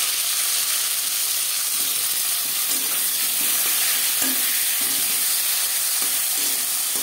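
Chopped tomato frying in a pan with cumin and split green chilies gives a steady, loud, hissing sizzle, with soft stirring scrapes now and then throughout.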